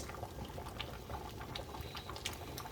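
Soup with dumplings bubbling in a pot, a steady faint simmering patter with small pops and gurgles throughout, no voices.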